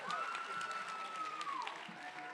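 An audience applauds at an eighth-grade celebration of excellence award ceremony, a steady wash of clapping lasting a couple of seconds with a faint sustained tone running through it.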